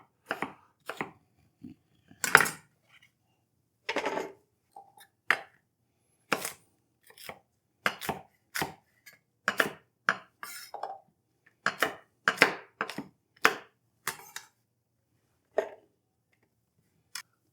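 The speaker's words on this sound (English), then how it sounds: "we need to chop all the veg into smaller pieces so the food processor can make heads and tails of it" A knife chops pickling cucumbers and other vegetables on a board for sweet and spicy relish, about two dozen crisp, separate cuts spaced irregularly and close up, with no talking.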